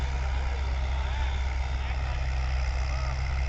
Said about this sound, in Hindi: ट्रैक्टर काफ़ी बढ़िया देखो प्रदर्शन दिखा रहा टीलर पे